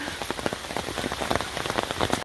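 Heavy rain falls in a forest along a hiking trail at Umstead State Park in Raleigh, North Carolina, making a dense, steady patter of drops close by with no voices.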